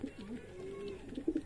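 Racer pigeons crowd in for hand-fed food, giving low, throaty coos that swell and fade close by, with small stirrings and a few louder bursts near the end.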